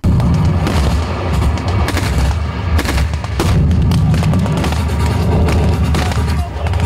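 Battle scene with artillery and tanks supporting infantry: loud, continuous booms and bursts of gunfire crackling close together, dense and chaotic, with no clear pauses.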